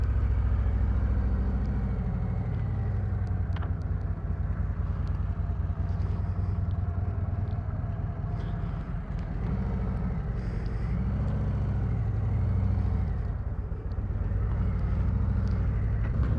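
A 2023 Harley-Davidson CVO Street Glide motorcycle is ridden on the road, its engine giving a deep, steady rumble throughout with wind noise and slight rises and falls in pitch as it runs.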